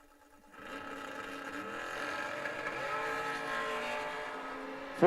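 A Corvette Roadster race car roars through a sustained high-revving run at a drag race, its engine note rising steadily and loudly for several seconds before a sharp burst at the end.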